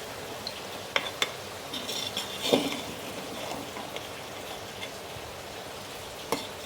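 Sweet jorda pulao rice being gently stirred in a pot with a spoon, producing soft scraping and light clinks against the metal over a faint background hiss, with a few sharper taps.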